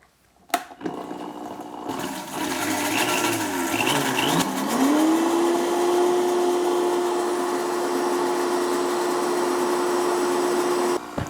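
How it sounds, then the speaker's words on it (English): A blender whirs up three egg yolks with a tablespoon of lemon juice, starting with a clunk and rough churning before the motor settles into a steady, loud, sustained whine that runs on until it cuts off. "first you blend up the egg yolk"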